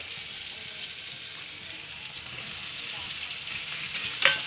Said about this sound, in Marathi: बघा मी आता मिरच्या टाकते आहे,